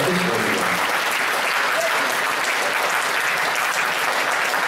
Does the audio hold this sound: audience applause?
yes